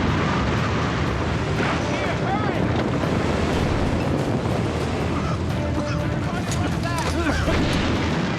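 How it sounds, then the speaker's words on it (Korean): A massed artillery barrage from 1900 guns on 16 December rolls on as a continuous, dense roar of overlapping booms and rumbles, loud and unbroken throughout, with a voice speaking over it. "12월 16일 1900개의 대포가 포격을 시작했습니다"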